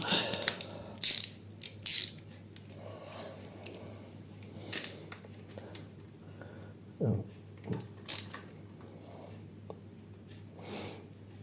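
A ratchet turns to tighten the camchain tensioner on a Honda VFR 800 motorcycle, with scattered short clicking bursts and pauses, fairly quiet and close, with no talking.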